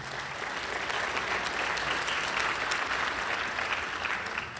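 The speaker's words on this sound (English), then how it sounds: "if you want to clap for them" Audience applause for graduates at a church message, a dense, steady wash of clapping that holds at even loudness throughout with no voices over it.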